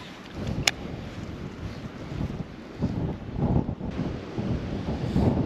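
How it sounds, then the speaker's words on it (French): Strong, cold wind blows outdoors beside brown water during a fishing outing, buffeting the microphone with loud, gusty broadband rumble that swells and fades irregularly. "il fait super venteux, il y a beaucoup... il fait froid, il y a beaucoup de vent."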